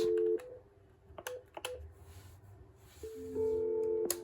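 Keypad tones from a Cisco CP-7821 IP phone: a steady two-tone beep, then short clicks and a few brief tones, and another sustained dual tone near the end, close and clear with no talking.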